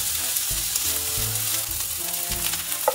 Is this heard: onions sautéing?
yes